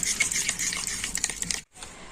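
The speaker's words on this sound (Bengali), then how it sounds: "এই টক দইটা আমি একটু ভালো করে ফেটিয়ে নেব" A whisk beats drained sour yogurt in a bowl for sweet curd, giving a steady run of soft wet clicks and scrapes that stops briefly near the end before picking up again. No one talks.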